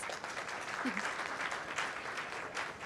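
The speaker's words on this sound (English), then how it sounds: "Round of applause." Audience at a ventures summit session applauds, a soft, steady wash of clapping that sounds distant and continuous, with a brief voice rising over it.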